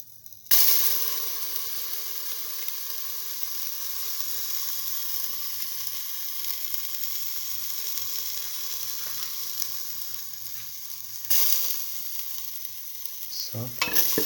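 Ginger sizzling in a pan for mung bean coconut rice, a steady close hiss holding for the whole stretch, with a louder burst near the start and another near the end.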